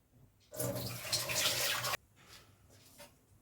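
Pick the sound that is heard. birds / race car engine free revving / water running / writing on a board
water running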